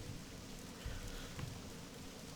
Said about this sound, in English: It's currently raining here in Elwyn Forest.